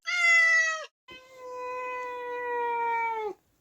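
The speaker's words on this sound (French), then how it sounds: "Vraiment le chat le plus râleur du quartier" A grumbling house cat gives two drawn-out, complaining meows close by, the first short and the second longer and wavering, with a brief gap between them and no talking.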